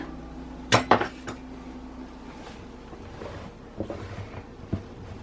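A utensil clatters against a pot while chicken and noodles are stirred, with a couple of sharp metallic knocks early, then softer scraping and a few later clinks, close up and without talk.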